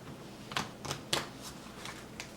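Cards being shuffled by hand during solo play of the Warmonger war card game, heard as a handful of short, crisp riffling bursts close by with quiet gaps between, no talking.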